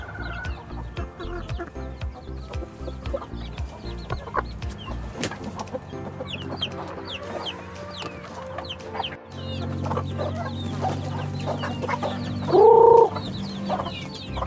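Heritage chickens clucking steadily in a backyard coop, several birds close by with overlapping calls and a louder squawk near the end.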